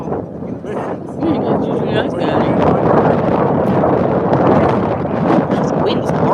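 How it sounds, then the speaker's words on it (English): Strong wind buffets an outdoor microphone in a steady, loud roar with gusty low rumble that fills the whole stretch, masking everything else. "This wind's horrible."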